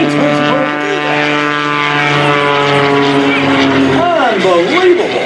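An MX2 carbon-fiber aerobatic propeller plane performing rolls at the Leesburg airshow, its steady loud engine drone with strong harmonic whine running throughout, rising and falling in pitch near the end, with an announcer talking over it.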